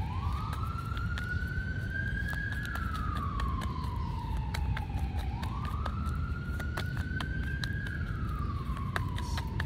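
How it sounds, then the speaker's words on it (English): A wailing siren rises and falls slowly in long sweeps, steady and moderately loud over a constant background rumble, with sharp clicks scattered throughout. "you hear the sirens?"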